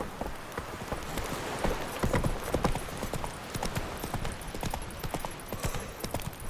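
A horse gallops in The Witcher 3 video game, its hoofbeats pounding in a fast, steady clip-clop rhythm throughout, close and continuous over a soft ambient wash of wind.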